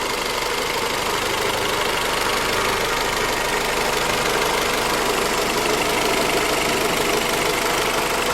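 A warmed-up Honda B18C VTEC four-cylinder engine idles with its cooling fans running, a steady, close, unbroken rumble with an even mechanical patter and fan hiss, heard alone without talk.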